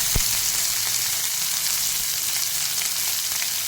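Green chillies and onions fry in a pan with cumin and mustard seeds, a continuous close hiss and crackle of hot oil, steady and fairly loud, with one soft thump near the start.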